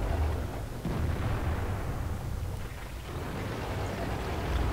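A T-150 tank's cannon fires in World of Tanks, with dense rumbling booms and a continuous roar of battle noise, loud and unbroken throughout.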